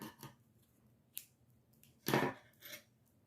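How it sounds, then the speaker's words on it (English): Scissors snip through yarn at the end of a crochet scrunchie, giving a few short, close, soft cuts with quiet pauses between them. "cut our yarn"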